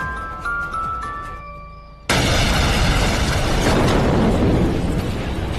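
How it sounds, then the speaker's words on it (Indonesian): A bomb detonates by a car in the TV series Wayward Pines. A quieter stretch with faint ringing tones breaks into one sudden, loud blast, followed by a sustained heavy rumble and crackle that slowly fades. "Dan ya, seketika bom itu pun langsung meledak"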